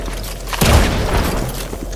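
A single loud gunshot boom in the video game Fortnite, a sharp burst followed by a short rumbling tail over a steady low background hum.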